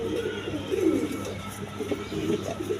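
Domestic pigeons kept as fancy coloured breeding pairs coo in soft, low, throaty phrases that repeat close by over steady background hum, with no talking.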